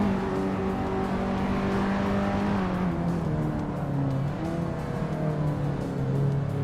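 Race cars in a racing video game hold a continuous engine drone, with pitch rising and falling as they accelerate and shift, steady and fairly loud with no talk.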